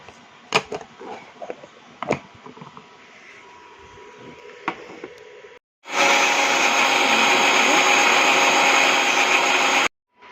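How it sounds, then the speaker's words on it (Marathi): A kitchen mixer grinder runs loud and steady for about four seconds, grinding garlic, cumin, mung dal and green chili, after scattered clinks and handling noises. "आता मी हे वाटून घेणार आहे. त्यात जिरे, लसूण, डाळ आणि हिरवी मिरची."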